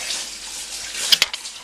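Cold tap water runs steadily into a roughly 5-litre stock pot for chicken stock, a soft continuous hiss with a few brief splashy bursts near the end, fairly close and moderately quiet.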